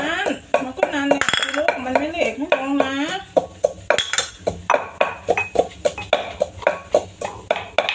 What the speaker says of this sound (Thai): ตำให้แหลก